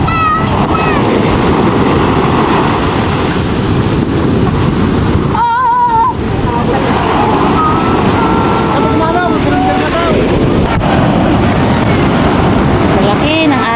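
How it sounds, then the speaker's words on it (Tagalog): Big sea waves wash and crash continuously around a boat out on open water, loud and close, with heavy wind buffeting the microphone throughout. "Lalaki ng alon."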